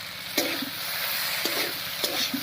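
Green chilies and chili powder fry in a hot pan for a drumstick and lentil-dumpling curry, giving a steady close sizzle with three sharp stirring scrapes spaced through it and no talk.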